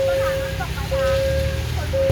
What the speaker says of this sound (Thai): ฝนตกครับ รอบนี้ครับ